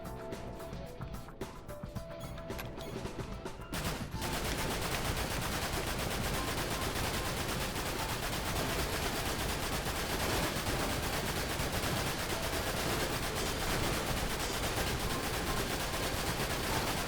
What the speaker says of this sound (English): This exercise will focus on the gun turret.